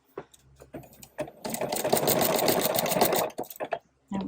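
A sewing machine stitches a denim tote bag sewn from old jeans, its steady close whir running for about two seconds between short bursts and stops, with brief quiet talk around it.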